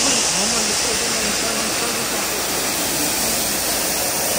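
Water rushes at the partly frozen Kegeti waterfall near Bishkek, Kyrgyzstan, a loud, steady, broadband roar heard close up and unchanging throughout.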